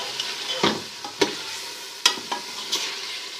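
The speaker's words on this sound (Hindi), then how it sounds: "4 से 5 मिनट हमने कोफ्तों को जो है वो इस तरह भून लिया है अच्छे तरीके से" Boiled kofta balls sautéed in a pan for a curry with chana, with soft sizzling and several sharp clicks of a spoon stirring against the pan, close and moderately loud, no voices.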